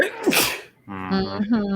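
A single loud, close sneeze bursts out, followed after a short pause by a person speaking during a casual viewing commentary on a fantasy TV episode.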